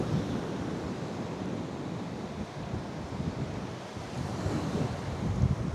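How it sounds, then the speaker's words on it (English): Waves wash steadily onto a small private beach in southern Lombok, a continuous broad surf roar mixed with wind buffeting the microphone, with no voices. "Ah, a little private beach."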